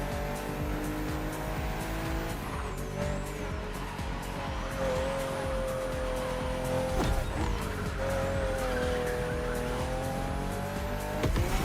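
A BMW M CSL, marked for BMW M's 50th anniversary, races along in The Crew Motorfest, its engine note steady and rising with a brief gear-change dip, tyres squealing, loud and close throughout.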